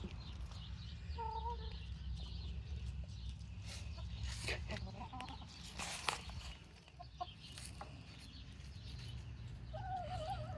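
Free-range Wyandotte chickens cluck and murmur close by on a farm, with soft intermittent calls and a few brief sharper squawks over a steady low background.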